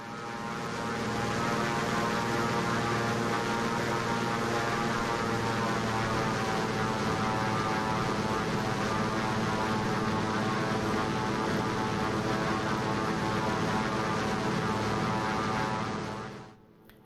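A Thranda Beaver propeller plane in X-Plane 11 roars at full power on its takeoff run, a loud, sustained buzzing engine and prop drone that holds steady before cutting off abruptly.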